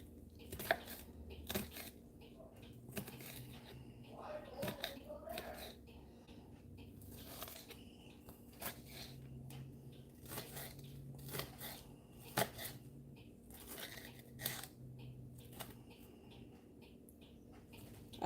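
A knife chops an onion on a cutting board, giving faint, quick, repeated cuts in uneven runs, close by and quiet.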